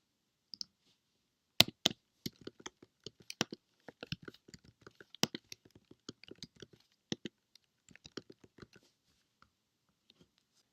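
Computer keyboard keys clicking in quick irregular bursts while list items are typed, close and crisp against near silence, tapering off into a few isolated taps.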